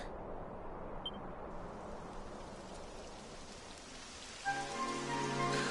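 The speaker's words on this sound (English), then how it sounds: "It would have to go and start raining, wouldn't it?" Steady rain in the video game Dragon Quest, pattering densely on surfaces throughout, joined near the end by a faint sustained tonal hum.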